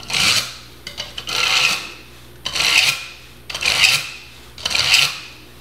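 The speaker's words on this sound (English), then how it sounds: "Maybe we should sharpen it some more." A kitchen knife rasps through a Bavarian Edge sharpener in five rhythmic pulls, each a loud, gritty scraping stroke about half a second to a second long, separated by short pauses.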